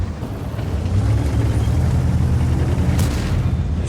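A WZ-114 Chinese heavy tank in World of Tanks fires a HEAT round, heard as a deep rumbling boom that swells and holds over a low, continuous battle roar, with a sharper crack near the end.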